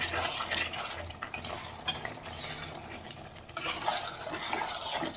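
Papaya mutton curry stirred in a pot, a close run of scraping and sloshing strokes from a spoon against the metal, with brief pauses between bursts and no voices.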